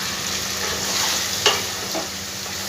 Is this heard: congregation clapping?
no